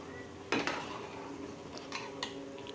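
Homemade desi ghee stirred in a pan over a high gas flame: a few brief metallic scrapes and clinks of a spoon against the pan, quiet and close, over a faint background hum.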